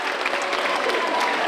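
An audience claps for a volunteer returning to his seat after a stage trick, a loud, close, continuous burst of many hands applauding.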